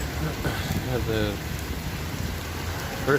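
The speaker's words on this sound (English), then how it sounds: "first real rainy day out here" Steady rain falls on a rainy day outdoors in rural Mongolia, a continuous hiss of drops with faint voices murmuring underneath throughout.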